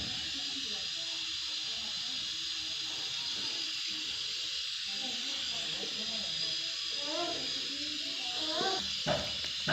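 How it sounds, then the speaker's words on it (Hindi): Garam masala dropped into hot oil for an aloo palak tadka gives a steady, broad sizzling hiss that runs throughout. Faint voices murmur underneath, and a few small clatters come near the end. "तेल हमारा गरम हो रहा है एंड इसी के साथ हम इसमें गरम मसाला भी डाल लेते हैं"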